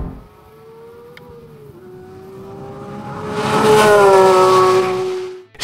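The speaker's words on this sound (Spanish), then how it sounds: "un motor atmosférico que sube y sube de vueltas y te permite estirar hasta las 9000 con un sonido que se mete en el habitáculo" A 2024 Porsche 911 GT3 Touring's naturally aspirated engine climbs from a steady hum into a rising, loud rev that peaks and holds before cutting off abruptly.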